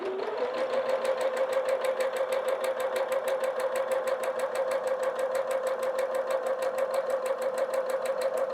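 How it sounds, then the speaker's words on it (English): A sewing machine stitches quilt blocks of Tula Pink fabric, its needle chattering in a fast, even, continuous rhythm close by. The motor whir holds steady for the whole stretch with no pauses. "we're going to sew them together just like that"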